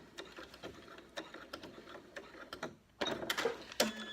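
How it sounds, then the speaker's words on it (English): A sewing machine runs a short lock stitch across a zip set into a cushion back, giving quiet, rapid mechanical ticking in brief bursts that grow louder and denser near the end. "Do a little lock stitch there."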